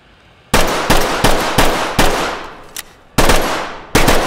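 Gunfire on the shooting range in the video game Ready or Not: a series of loud, sharp, close shots in irregular single and double bursts, each ringing out briefly before the next.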